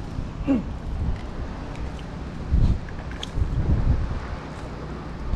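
Wind gusts outdoors during a fishing trip, low rumbling buffets against the microphone that swell and fade, with faint distant voices underneath.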